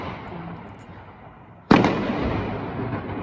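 A single loud firework burst goes off outdoors on New Year's Day, a sharp nearby bang that rolls into a long rumbling decay after a quieter stretch of background noise.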